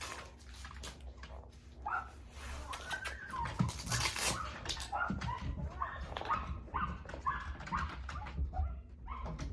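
A young puppy whimpers and yips close by in repeated, high, uneven cries, with soft rustling and splashy background noise underneath.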